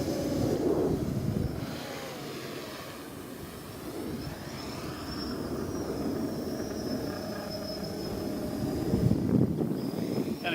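A rebuilt quadcopter drone with a box-style frame flies at just under half throttle on its first flight, giving a steady whirring motor drone with a thin high whine that swells and fades as it moves.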